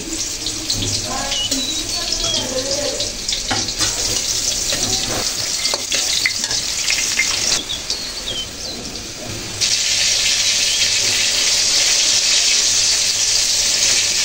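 Brinjal fritters (bora) deep frying in oil, a loud, dense, continuous hiss of bubbling oil that shifts in texture partway through and grows steadier near the end.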